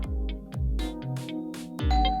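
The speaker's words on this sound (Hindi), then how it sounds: "जिंदगी में पहली बार इतना मजा आ रहा है डोरबेल बजने से" A doorbell chimes repeatedly, several ding-dong rings in quick succession, loud and close, with an electronic tone ringing at the end.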